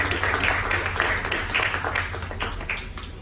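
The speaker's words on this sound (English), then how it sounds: "another round of applause for that amazing" Audience applause at a live storytelling event: a crowd claps steadily through the whole short stretch, moderately loud and fairly even, with slight swells but no voices on top.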